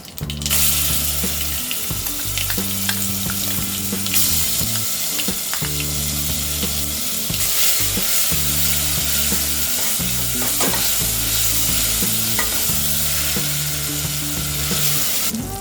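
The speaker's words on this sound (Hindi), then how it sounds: "हमने 2 मिनट मसाला फ्राई कर लिया है" Ground masala paste with curry leaves frying in a pan, a steady close sizzle with the scrape and clatter of a spoon stirring through it, continuous and fairly loud with no talk.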